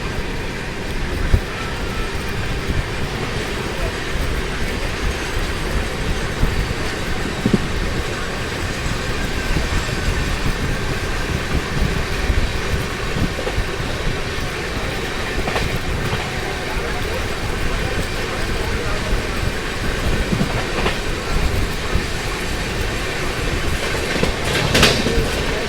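Ajmer Jan Shatabdi Express running on main-line track, a steady loud rumble of wheels with faint clickety-clack and occasional squeal, continuous throughout with no talk.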